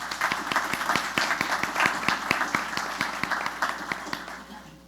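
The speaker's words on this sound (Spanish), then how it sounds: "Pido un aplauso" Audience applause fills a panel event on women's political participation: steady, dense clapping from a crowd, fairly loud and sustained throughout, with no talk over it.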